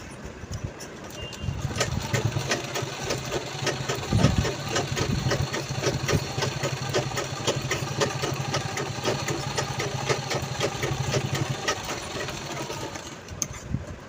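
A sewing machine stitches a zip onto a denim pencil pouch made from old jeans, running steadily at a fast, even pace for about twelve seconds before stopping, with no one speaking.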